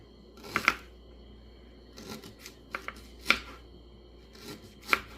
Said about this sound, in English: we've got the ginger peeled now, and we're gonna cut it up. We're just gonna slice it here.